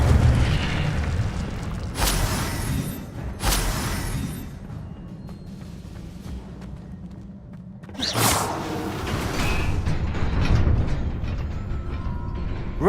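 Fiery spell blasts from an Incendio cast in Hogwarts Legacy, several loud whooshing bursts with booming low rumble, two sharp flares early and a bigger swell later, over continuous game ambience.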